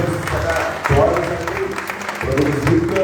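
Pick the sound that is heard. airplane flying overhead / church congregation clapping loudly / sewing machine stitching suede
church congregation clapping loudly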